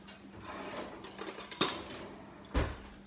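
Spoon clinking and scraping as sour cream goes into a bowl, a couple of sharp metallic taps over faint room noise, close and moderately quiet, no speech.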